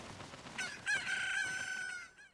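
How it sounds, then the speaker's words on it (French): Chickens in Zelda: Tears of the Kingdom squawking and clucking in a loud, agitated run of calls with a crowing-like cry, close and continuous, with no speech over it. "je me suis bien fait agresser par les poules"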